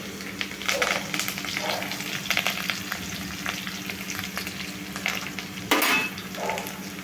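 Chopped onion fries in a pan of oil for a farsan vegetable curry, giving a steady close sizzle with intermittent stirring scrapes and clinks, swelling briefly louder near the end.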